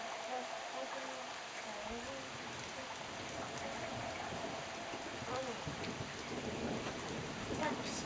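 Steady rain pours down through a thunderstorm, a dense even hiss with low rumbles of thunder rolling underneath, while a child and an adult speak softly over it.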